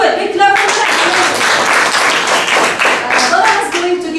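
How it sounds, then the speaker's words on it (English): Classroom of students clapping together in a burst of applause during a lesson, loud and close throughout, a dense patter of hands lasting several seconds. "Big clap for that."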